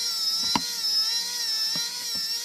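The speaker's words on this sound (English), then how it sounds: "it does exhibit a lot of torque, and it takes the screws out pretty quickly" An automatic micro screwdriver backs screws out, giving a steady high-pitched electric motor whine throughout with a few soft clicks and knocks over it, close and alone.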